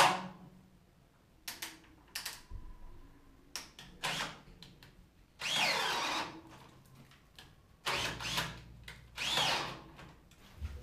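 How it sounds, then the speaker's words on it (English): A battery-powered drill bores holes in wooden top plates in a basement, running in several whining bursts of a second or two each with clunks and pauses between, fairly close. "I'm gonna go ahead and take my drill and start putting some holes in the top plates"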